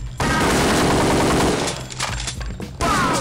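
Gunfire in the Kingpin crime shooter game: a loud, dense barrage of overlapping shots that runs almost continuously, with a brief dip near the end before it picks up again.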